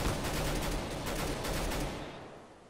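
Rapid automatic gunfire in the video game Counter-Strike, loud, dense bursts of shots hammering on steadily, then fading out near the end with no talk over it.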